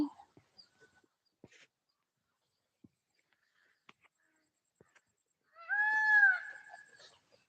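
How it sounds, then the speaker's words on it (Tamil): After scattered faint clicks and quiet, a peacock gives a loud, piercing wailing call nearby in a garden with fodder crops, then silence returns. "மயில் கத்துற சத்தம் பாருங்கள் எவ்வளோ அழகாக கேட்குதுன்னு"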